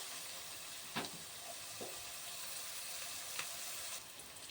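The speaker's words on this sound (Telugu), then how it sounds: "ఒక 2-3 మినిట్స్ ఫ్రై అవనిద్దాం హై ఫ్లేమ్లో." Vegetables frying on a high flame for vermicelli rice, a steady soft hiss and sizzle with a few faint stirring knocks, quiet and without talk.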